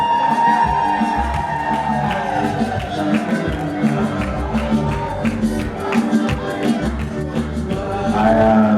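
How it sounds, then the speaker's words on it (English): Audience at a 2021 dental nursing graduation ceremony at Prince Edward School in Zimbabwe claps steadily, with whoops and cheering mixed into a dense, continuous crowd din that carries through the whole stretch. "Let's clap hands for patience."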